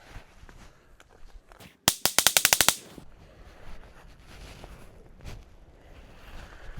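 A rapid string of about nine .22 Long Rifle shots cracks out at a tree in a tight, fast rhythm, loud and near, then quiet outdoor ambience with a faint distant knock.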